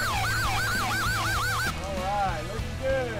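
A police vehicle siren wails in rapid, regular up-and-down sweeps close by and loud, then cuts to slower, fainter tones, with voices underneath.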